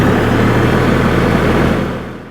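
An LS tractor engine runs at a steady idle, a close, even low rumble that holds and then fades toward the end, with no voices.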